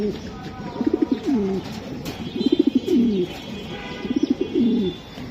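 Racing pigeons cooing close by at a pigeon sale, three rhythmic bursts of low throaty coos with short pauses between, a faint chirp or two in the background.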